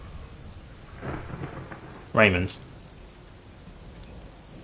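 Steady rain pours in a Shadowrun Hong Kong game storm, with a soft roll of thunder and then a sharp, loud crack of thunder near the middle; a voice briefly speaks.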